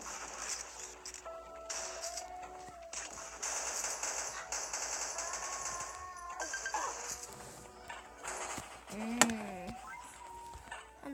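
Rapid automatic gunfire from the mobile shooter Pixel Gun rattles in bursts alongside game effects and a pumpkin launcher, with a sharp impact near the end and faint talk underneath.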